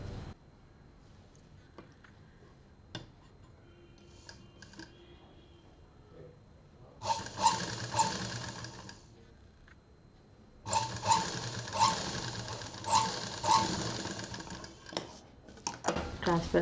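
A sewing machine stitches a transparent plastic pencil pouch. It runs in two close, steady bursts, a short run and then a longer one, separated by quieter handling noises, and a voice speaks around them.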